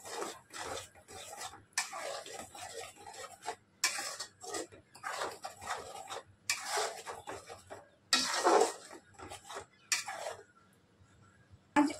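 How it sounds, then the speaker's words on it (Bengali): A paste of coriander leaves and green chilli being fried and stirred in a pan for mutton kosha. Quiet, scraping bursts of stirring come and go with short silent pauses between them. "ধনে পাতা আর কাঁচা লঙ্কা বাটাটা দিয়ে দেবো। এটাকে খানিকক্ষণ কষাবো।"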